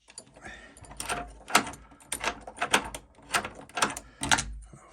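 A Chubb deadlock, freshly fitted in a door, has its bolt thrown by hand, giving a run of about seven distinct metallic clacks and clunks in a steady, close, moderately loud rhythm with no talking.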